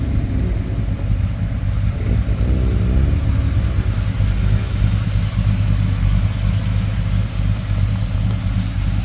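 A restored 1966 Chevrolet Chevelle SS clone with an automatic transmission runs steadily, giving a continuous low engine rumble with a slight swell partway through. It is close and carries no talk.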